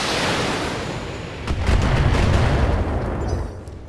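Missile salvo from LRM-10 launchers in the BattleTech video game: a broad, rumbling burst of rapid launches and blasts that swells after a steady background, loud and dense for about two seconds before fading.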